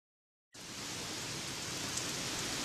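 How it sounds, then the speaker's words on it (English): Heavy rain starts abruptly after a moment of silence and then pours down as a dense, steady hiss, loud and close with no voices over it. "It's raining cats and dogs again."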